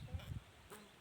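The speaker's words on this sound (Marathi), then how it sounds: "5 ते 6 मधमाशा आहेत. बघा किती उडताना दिसत आहेत." Honeybees buzz over flowering onion plants in a field, a faint steady hum with a few brief louder low bursts as insects pass close.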